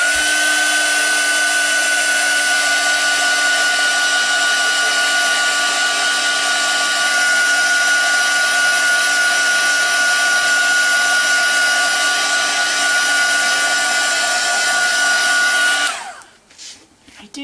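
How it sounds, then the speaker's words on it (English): A heat tool blows hot air over a mixed media card, a steady loud whooshing whir that runs unbroken for about sixteen seconds before cutting off abruptly. "One more time with a heat tool."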